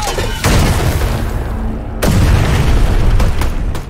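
Heavy 120mm mortar rounds burst in a combat scene, two big booming impacts a couple of seconds apart, each followed by rumbling debris and a dense low roar, with a sharper pop near the end.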